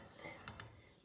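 Metal kitchenware clatters as a pressure cooker is set down and red kidney beans are added, a few light clinks and rattles up close over a low background.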